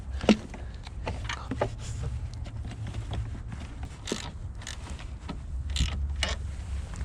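A new car battery is set into place on a winter day, with scattered creaks, plastic knocks and metallic clunks at close range, faint overall and irregularly spaced.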